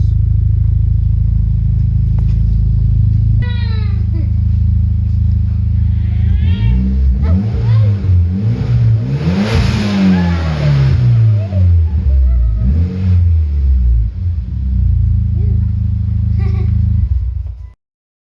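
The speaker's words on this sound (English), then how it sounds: "This is a catted test pipe for the Mitsubishi 2008 Evo GSR." A 2008 Mitsubishi Evo GSR with a catted test pipe idles loudly up close on a cold start, then revs up and down several times with rising and falling roars before settling and cutting off.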